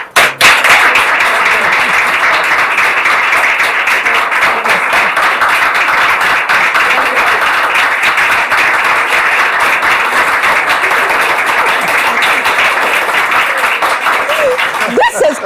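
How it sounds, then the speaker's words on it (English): A talk-show studio audience applauds in sustained, loud, dense clapping that holds steady for about fifteen seconds, with voices mixed in beneath. "Kokonsa applause"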